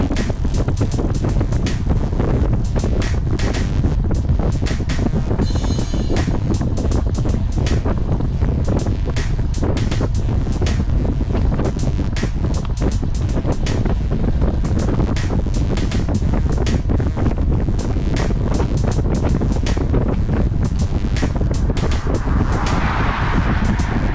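Strong wind roars across the microphone while riding a bicycle over lumpy, rolling road terrain, a loud continuous rumble and buffeting that persists throughout with no talking.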